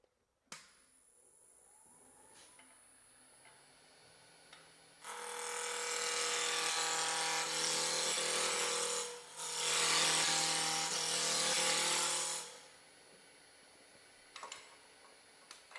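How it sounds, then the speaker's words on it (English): A roughing gouge cuts a spinning wooden cabriole leg on a lathe, a steady broadband shaving hiss lasting several seconds, briefly dipping and then resuming, with quiet motor hum before and after. "I'm going to use my my roughing gouge for doing that"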